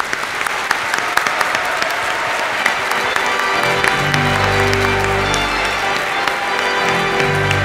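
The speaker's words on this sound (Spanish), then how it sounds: "Démosles a ellos un fuerte aplauso." Applause rings out for newly married couples at a Spanish-language community wedding Mass, a large crowd clapping steadily and loudly in a reverberant church while sustained organ music swells underneath partway through.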